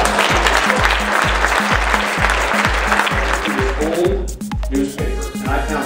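Audience applause at a mentalist's stage show, a broad sustained clapping texture with a thumping musical beat underneath, loud and continuous before thinning out toward the end.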